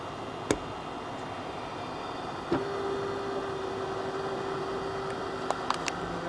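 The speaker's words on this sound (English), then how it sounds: "my window's open and you're hearing traffic" Street traffic drifts in through an open window as a steady, distant broadband wash, with a few faint clicks and a sustained hum running beneath it and no voices.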